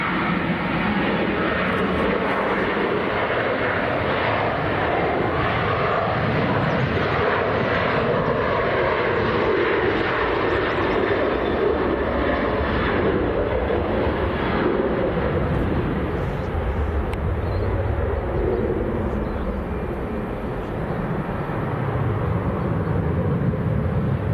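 Aircraft engine roar from a plane departing Leeds Bradford Airport, a loud, sustained broadband rumble filling the whole stretch with no pause, slowly shifting in tone as it climbs away.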